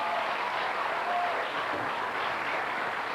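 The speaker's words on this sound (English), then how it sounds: "Give her a nice round of applause" Studio audience applauding on a television game show, a steady, dense wash of clapping that holds evenly for a few seconds with no voices over it.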